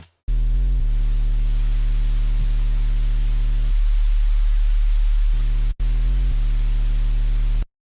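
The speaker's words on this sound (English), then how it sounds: "why don't we just use some white noise and make it stereo" Steady stereo white-noise hiss layered over a low, buzzing triangle-wave tone with stacked harmonics, cutting out briefly near the end before resuming.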